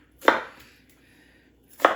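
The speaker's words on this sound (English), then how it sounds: "I'm just chopping that in like little cubes" Two sharp knife chops on a cutting board as a cucumber is cut into cubes, one early and one near the end, separated by a quiet pause.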